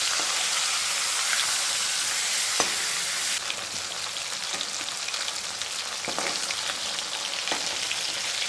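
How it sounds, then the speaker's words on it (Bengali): Bhetki fish bones sizzle in a pan with a constant, dense frying hiss. Occasional light clicks and stirring taps cut through it, and no one speaks. "এখন কিন্তু কাঁটাগুলো ভেজে নেবো ভালোভাবে।"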